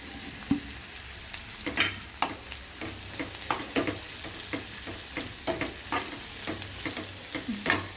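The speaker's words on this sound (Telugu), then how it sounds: "ఎర్రగా వేయించుకోవాలి" Curry leaves and green chillies fry in oil for a buttermilk rasam, giving a steady close sizzle broken by frequent sharp crackles and pops from the spatula and spattering.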